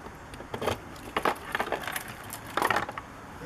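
Keys jangle and click in a lock as a camper's fresh water tank hatch is unlocked on an Aliner trailer, several short metallic rattles in bursts, close and fairly quiet.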